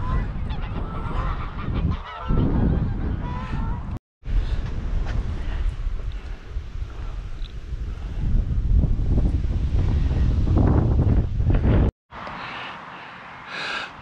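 Three Canada geese honk repeatedly over steady outdoor wind noise on the Baltic coast near Oldenburg in Holstein, the calls fairly close and carrying through most of the stretch with brief gaps.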